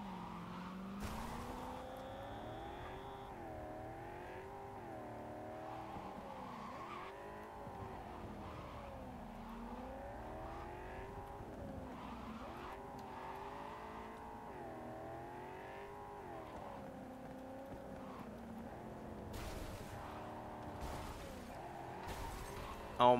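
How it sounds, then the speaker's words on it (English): A small car in the video game Cyberpunk 2077, driven with a keyboard, revs and skids continuously with tire squeal and wavering engine tone, ending in a sharp impact. "Oh my god, I'm wrecking my car."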